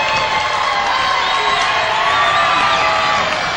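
A loud crowd cheers, whoops and shouts at a Demolition Derby 2000 show, voting by noise for a contestant, a dense sustained roar with high excited cries and a little clapping, close and filling the whole moment.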